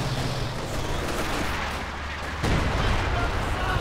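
Howitzer artillery firing in a Company of Heroes 2 multiplayer battle, a dense, roaring barrage with booms that swell over continuous battlefield noise.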